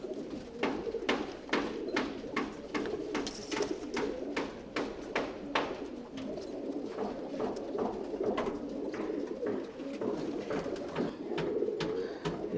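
Tumbler pigeons coo in a loft in Bangalore, with repeated soft throaty coos overlapping at a steady pace over a low murmuring bed of birds, fairly close and with no talk.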